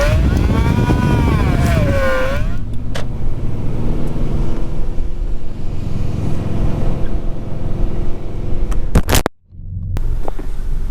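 A naturally aspirated Subaru being turbocharged rolls slowly around a parking lot, its engine holding a steady low drone with a rising whine early on and a sharp dropout near the end.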